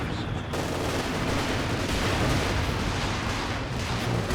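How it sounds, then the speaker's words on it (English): Katyusha rocket artillery barrage in Company of Heroes 2, a dense, continuous roar of rocket launches and blasts filling the whole stretch, loud and sustained without pause. "A nice first barrage for Brosras on his Katyusha."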